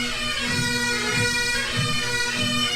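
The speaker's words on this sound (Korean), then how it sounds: "네, 이게 백파이프입니다." Bagpipes play from a recording, holding a loud continuous drone under a bright, reedy melody that stays steady throughout.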